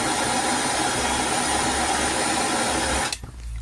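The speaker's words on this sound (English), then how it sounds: "I'm squeezing the mityvac trigger as we're putting the heat on it. Just blowing the ash out as we're burning it" Steady broadband hiss and whoosh as ash is blown out of a blocked DPF vaporizer (fifth injector) with a Mityvac hand vacuum pump while it is heated, loud and continuous before cutting off abruptly near the end.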